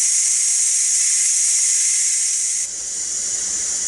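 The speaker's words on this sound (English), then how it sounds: "I'm going to hit this relief valve." Ninja Foodi Deluxe pressure cooker relief valve venting steam, a loud continuous hiss that holds steady and then drops slightly in level partway through, no voices.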